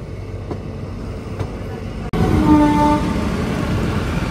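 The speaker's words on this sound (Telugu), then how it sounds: "మన ట్రైన్ ఇలా స్టేషన్ లోపలికి వెళ్తుంది" Andaman Express passenger train rolling into a station, a loud continuous rumble of wheels and carriages with a brief whistling tone over the top, heard from on board.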